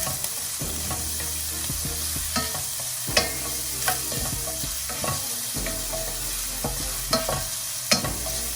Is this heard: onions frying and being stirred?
yes